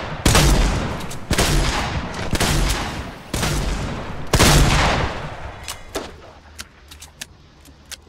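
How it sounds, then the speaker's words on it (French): Rapid bursts of turret gunfire in a video game, several loud, dense volleys in the first five seconds, then scattered sharp distant shots trailing off, with no talking. "Je pense qu'il y a quelqu'un qui nous attaque avec une tourelle là."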